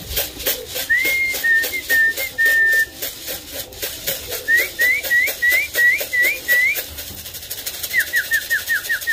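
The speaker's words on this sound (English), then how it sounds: "they need to hear that whistle and that shaking of that feed can" A sharp, high, repeated whistle calls birds in to feed, loud and close, sounding in short rhythmic runs while a feed can rattles and shakes in a steady pulsing beat underneath.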